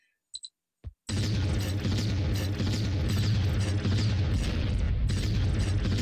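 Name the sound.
explosions in Lode Runner 2 video game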